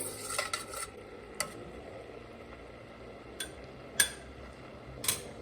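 A spoon stirs pepper sauce thickening in a pan for a steak stir fry, giving scattered light clinks and taps against the pan over a soft steady background hiss, close by and moderately quiet.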